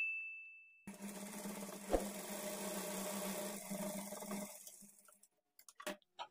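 A domestic sewing machine runs steadily for about four seconds while stitching a blouse seam, giving a continuous close hum and whir that slows to a stop, followed by a few short clicks.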